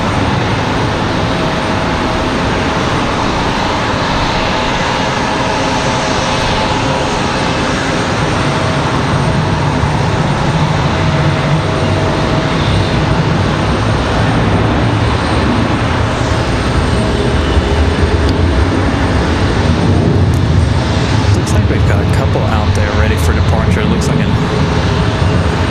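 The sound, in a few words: Southwest jet airliner getting moving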